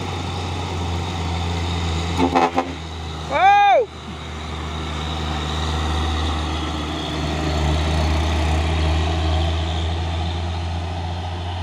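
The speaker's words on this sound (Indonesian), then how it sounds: "truk Pusoren pemain 6x2 melewati tanjakan Bukit Kodok di siang hari" A Pusoren 6x2 dump truck grinds up the Bukit Kodok hill climb at midday, a steady low engine drone running throughout with a brief horn-like rising tone early on.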